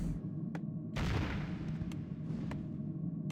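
Cannon tower fire in Warcraft III striking an undead gold mine: repeated sharp booming impacts, one heavier blast near the middle, over a steady low rumble of battle ambience.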